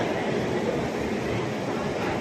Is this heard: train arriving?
yes